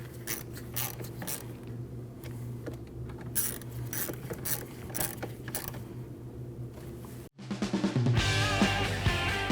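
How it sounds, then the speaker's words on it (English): A ratchet clicks in a steady run while tightening the brake reservoir bolts on a 2013-2019 Ford Escape 1.5L, with a clear mechanical rattle, before a short gap and a louder, different sound near the end. "Now you can reinstall your brake reservoir and tighten the bolts."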